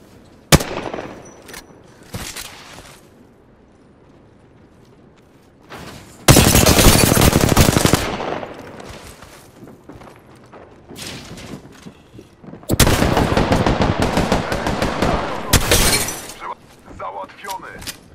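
Bursts of video game gunfire crack out in two long, dense volleys with scattered shots between, loud and close, while a player talks over the action.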